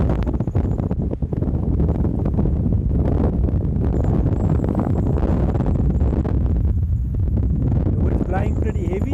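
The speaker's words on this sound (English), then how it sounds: "The wind's blowing pretty heavy." Heavy wind at the Swartberg Pass in South Africa on a rainy day, a constant loud roar buffeting the microphone throughout, with someone talking over it.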